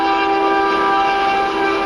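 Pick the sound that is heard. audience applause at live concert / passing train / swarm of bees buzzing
passing train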